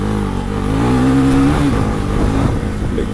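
A Husqvarna Svartpilen 401 motorcycle climbs a dirt patch, its engine loud and close in a sustained, rising drone with a brief higher-pitched rev before settling into a rougher, steady note.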